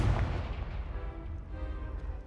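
The Confringo fire-blast spell in Hogwarts Legacy goes off as a heavy, rumbling explosion that starts with a deep boom and rolls on as a sustained crackling roar, loud and close, with no voice over it.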